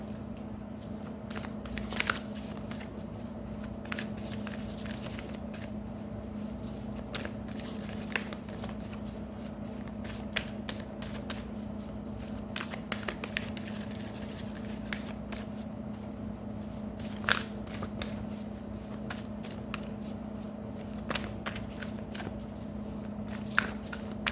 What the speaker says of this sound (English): even when I'm shuffling your cards